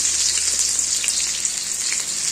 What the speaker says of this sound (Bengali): পনির ভাজার তেলেই পেঁয়াজগুলো দিয়ে দিলাম।